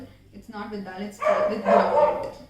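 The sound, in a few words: dog barking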